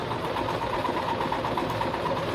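A Singer 1507 sewing machine runs steadily while stitching a buttonhole, with a continuous close motor whir and rapid needle rhythm and no talking.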